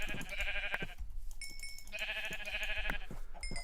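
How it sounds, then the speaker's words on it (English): Minecraft sheep bleating, two quavering game bleats a second apart, clear and close with no talk over them. "Tons and tons of sheep."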